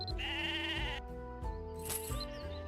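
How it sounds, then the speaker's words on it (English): Sheep bleating in the fantasy online game Mabinogi, a couple of wavering bleats in quick succession over steady game music, close and clear. "Sheep are a pain with how much they move around."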